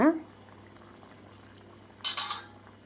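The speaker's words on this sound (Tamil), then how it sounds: "இப்போது ரசம்லாம் நல்லா வந்து கொதிச்சிருச்சிங்க" A pot of rasam simmers with a soft, steady bubbling hiss, quiet and close, with a brief louder rush near the end.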